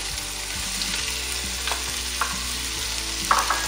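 Onions and peppers sauté in a pan for a chicken Catalan-style dish, giving a steady close sizzle with occasional soft spatula scrapes and stirring clicks, no one speaking.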